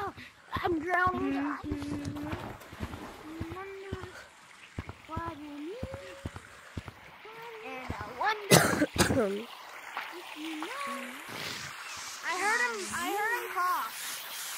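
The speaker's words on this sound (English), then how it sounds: "I heard someone cough." A single brief cough breaks through midway, among several children's voices talking over Gorilla Tag voice chat, with game noise in the background.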